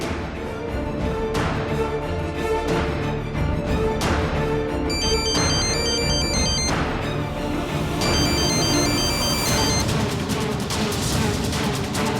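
A mobile phone ringtone plays at home in a Hindi TV drama scene, a repeating electronic melody sounding in short bursts over a loud, dense music-and-effects bed, with no one speaking.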